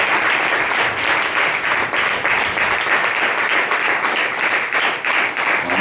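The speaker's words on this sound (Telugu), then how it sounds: "ఆమేన్ అని చెప్పిన బిడ్డలందరూ చప్పట్లు కొడుతూ దేవుని మహిమపరుస్తున్నారు" A church congregation claps together in praise during a morning fasting prayer service, a steady, loud, sustained wave of applause with no talking over it.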